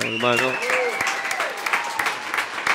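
A burst of studio audience applause and cheering, with a voice rising briefly over the clapping at the start.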